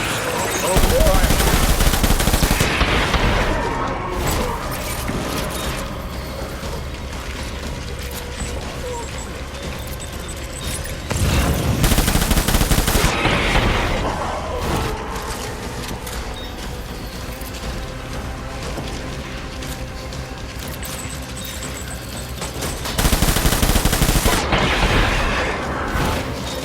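Bursts of game gunfire from the PS4 game Death Stranding come in three loud volleys, roughly ten seconds apart, with steady rumbling action sounds between them and voices talking.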